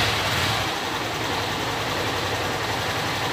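A motorcycle engine idles steadily at close range, a constant rumbling drone with no changes in speed, after a repair for cutting out and misfiring.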